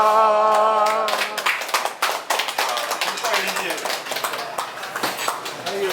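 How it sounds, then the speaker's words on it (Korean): Hands clap in a busy, uneven patter at a birthday celebration, with a voice audible at the start and talk continuing beneath the steady clapping. "박수."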